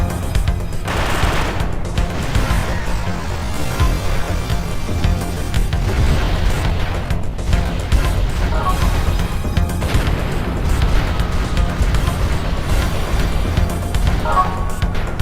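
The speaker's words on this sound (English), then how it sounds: "You can automatically lock onto anything destructible and press square to destroy it" Rapid gunfire and crashing impacts as a wrecked truck is shot apart in the PS2 game Xenosaga 2, a dense, continuous barrage of shots and destruction bursts over a steady low rumble, with no speech.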